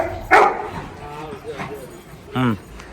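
A Labrador barks three times at a hostel, with sharp, close barks spaced roughly a second apart against a quiet background.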